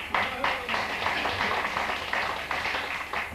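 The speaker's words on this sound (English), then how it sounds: "Give James a nice warm round of applause, ladies and gentlemen." A small pub quiz crowd gives a brief round of applause for a contestant, the clapping moderately close and steady for a few seconds under a busy room.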